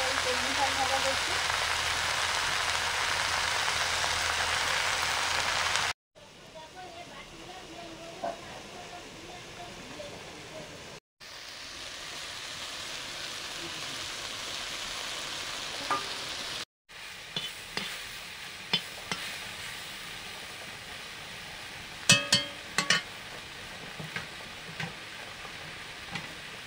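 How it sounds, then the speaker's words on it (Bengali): Water spinach (kalmi shak) frying with cumin paste and onion, with a loud steady sizzle at first, then softer crackling and stirring scrapes with occasional sharp clicks after short breaks. "তারপর কলমি শাক ভাজা করছি"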